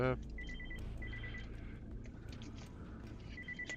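A telephone rings during a telesales call, with repeated bursts of a high electronic trill over a low background hum and indoor noise.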